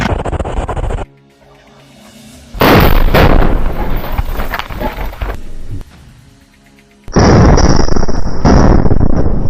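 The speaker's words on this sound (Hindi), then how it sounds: "हमास का लड़ाका रिमोट कंट्रोल से इस आईडी में ब्लास्ट कर देता है" Two loud, booming blasts from a remote-detonated IED destroying a tank roar out a few seconds apart, each followed by rumbling debris and a lingering crackle, with quieter gaps between.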